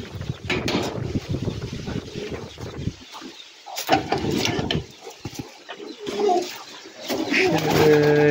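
Pigeons kept in a French backyard poultry setup coo in repeated soft, throaty bursts, close by and fairly loud, broken by brief quiet gaps and a few rustling movements.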